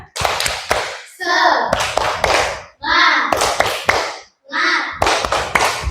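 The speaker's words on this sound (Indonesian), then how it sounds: "kita tepuk semangat dulu, ya. Tepuk semangat." A classroom of children performs a rhythmic spirit clap, with bursts of patterned claps and taps alternating with short shouted chants from the group, close and loud.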